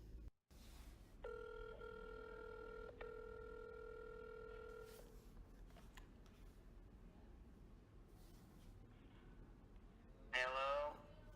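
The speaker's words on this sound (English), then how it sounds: "This is a recording of their phone call we obtained from Carol Ann." An old-style telephone bell rings in a single long burst at the start of a recorded phone call, heard over a steady low background hum.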